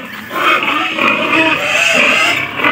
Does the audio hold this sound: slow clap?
no